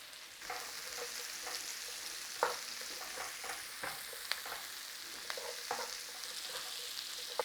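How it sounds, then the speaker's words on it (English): Garlic, onions and peppers fry in a pan with a steady broadband sizzle throughout, broken by occasional louder crackles and stirring clatters, close and moderately loud with no talking. "Start with a little bit of a fry on there."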